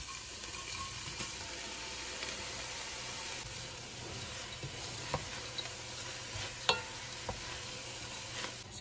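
A chopped whole onion sizzles in butter in a pan, a steady frying hiss with occasional clicks and scrapes from stirring.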